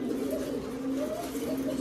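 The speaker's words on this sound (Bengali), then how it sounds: "দেখতে পাচ্ছি 6 পিস কবুতর আছে।" Several fancy pigeons, including Bombay and racer birds kept for sale, give a steady low cooing that stays faint and continuous in the background.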